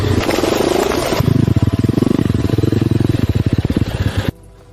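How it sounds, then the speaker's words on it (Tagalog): A dirt bike's engine revs hard and rattles through a choppy, pulsing throttle burst, loud and close, then cuts off abruptly into near quiet. "Hindi makakadaan ang motorsiklo panlupa."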